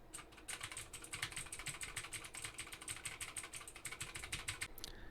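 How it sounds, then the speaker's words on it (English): Rapid typing on a mechanical keyboard, picked up by a Maono PD400X microphone, gives a dense run of sharp, crisp clicks in a quick irregular rhythm, close and clear for about five seconds with no voices. "Now I'm going to start typing on my mechanical keyboard to see if it's picking up much keyboard noise."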